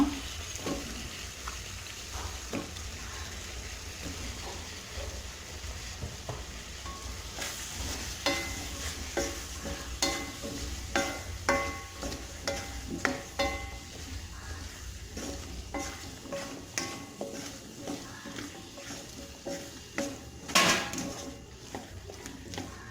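Potatoes sauté in a pan for a fresh pigeon peas curry: a steady sizzle of frying runs throughout, broken by repeated scraping and clinking stirs of a utensil against the pan, close and fairly loud.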